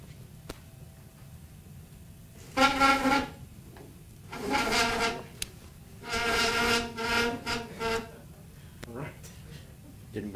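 A dry spindle squeaks and rubs in several loud, drawn-out bursts of a second or so each, with quieter scraping between them.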